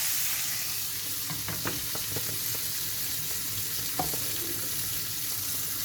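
Anchovies frying on their second side in a pan for crispy fried hamsi, a dense, even hiss of hot oil with a few light spoon or fork taps and scrapes, no speech.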